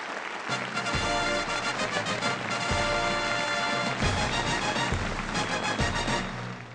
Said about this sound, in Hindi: वेल, ऑल द बेस्ट और जोरदार तालियां संकेत के लिए